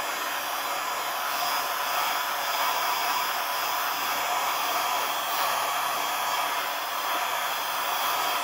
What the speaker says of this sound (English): I'm going to heat it up again. Remembering not to leave the heat gun in one spot.